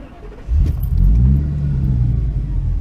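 Ford 6.8-liter V10 engine in a van running smoothly, a deep steady low rumble that swells as it picks up revs and holds a constant drone, close and fairly loud with no talking.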